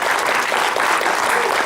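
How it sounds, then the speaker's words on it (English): An audience at a town hall meeting on fair courts in La Crosse claps steadily and loudly in a sustained burst of applause filling the room. "How about a round of applause"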